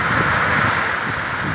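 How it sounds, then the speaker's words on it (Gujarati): Strong wind with heavy rain in a storm, a dense loud continuous rushing hiss close to the microphone with no talk. "તો જોરદાર પવન પણ છે સાથે સાથે."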